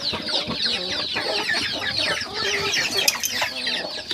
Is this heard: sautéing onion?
no